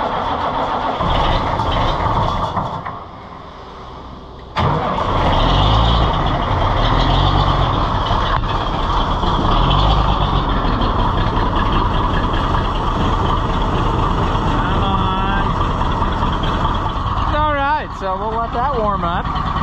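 A cold engine on a trailer cranks over, catches and settles into a steady, slightly rough idle, with someone talking over the running motor throughout.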